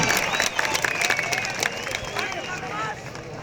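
A crowd at a bull wrestling event in Yusufeli, Artvin gives brief, dense applause and clapping mixed with general crowd noise, fairly loud and close, while an announcer talks over it.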